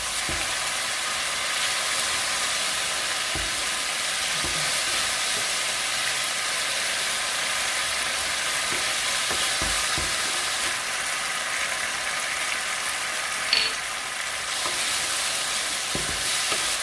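A constant, close hiss of frying comes from a wok as sugar and seasoning powder are stir-fried for chili-salt shrimp, with a few scattered spatula taps and scrapes; no one speaks.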